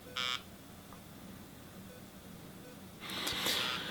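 A phone going off with notifications: a short, faint tonal buzz, then quiet, then a longer cluster of chirping alert tones about three seconds later.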